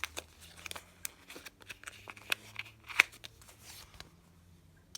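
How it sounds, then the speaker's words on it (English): Crisp paper rustles and flicks of cash bills handled and slid into a budget envelope, close and quiet, in short irregular bursts. "I'm going to stick it in this envelope."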